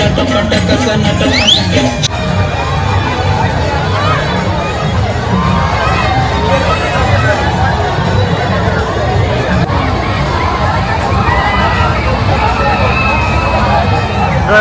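A dense crowd at the Aagri Koli festival in Dombivli, a loud continuous wash of chatter, shouts and children's voices close around, with no pause in the babble.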